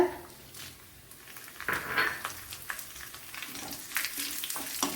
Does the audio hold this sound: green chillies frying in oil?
yes